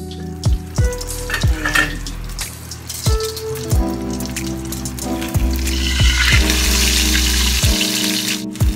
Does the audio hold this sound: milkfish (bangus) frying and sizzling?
yes